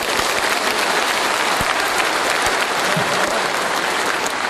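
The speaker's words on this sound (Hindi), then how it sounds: "क्या उनके लिए आप ताली बजाएंगे?" A large audience breaks into loud, dense applause in honor of trainers, a sustained roar of many hands clapping close and full for the whole stretch.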